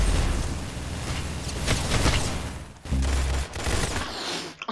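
Dense, loud gunfire in a Roblox Arsenal match, a continuous fusillade of overlapping shots and blasts with a brief drop near the middle before it resumes.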